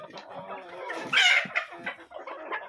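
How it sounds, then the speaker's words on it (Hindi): Kadaknath roosters and hens on a small rain-soaked farm cluck and squawk close by, with one sharp, louder call rising in the middle of a busy, irregular chatter of fowl. "ये कड़कनाथ मुर्गा। देखिए वो प्योर जेड ब्लैक मुर्गा है"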